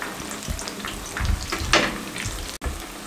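Peshawari chapli kababs fry in hot oil in a pan, a steady crackling sizzle broken by spatula scrapes and a brief sharp dropout near the end, with no one speaking.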